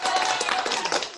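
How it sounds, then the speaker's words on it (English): Audience at a live variety show clapping, a brief dense burst of applause from a crowd, fairly close and loud throughout. "Let's give her a big round of applause, ladies and gentlemen."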